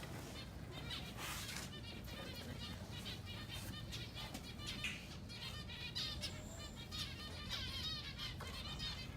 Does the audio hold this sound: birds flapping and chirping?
yes